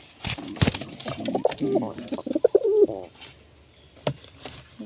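Pigeons coo in a burst of throaty, rolling calls close by, mixed with scuffling and flapping, then a few sharp knocks as it fades.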